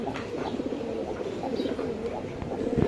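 A male pigeon coos near a female, a close, repeated low throaty cooing that keeps rolling with a pulsing rhythm.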